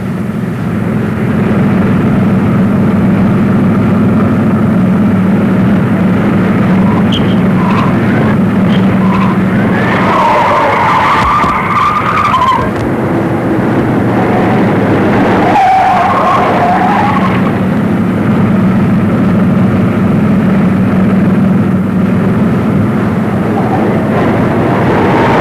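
Speeding cars in a 1940 film police chase roar continuously and loudly, with engine noise swelling and fading and two short screeching bursts of tires in the middle.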